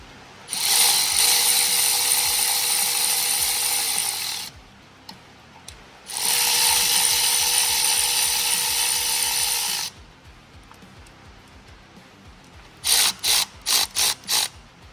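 Ratchet snugging the bolts of an HSP Diesel Y-bridge kit on an LBZ/LMM Duramax, heard as two long, loud bursts of rapid clicking separated by a pause, then a handful of short clicking strokes near the end.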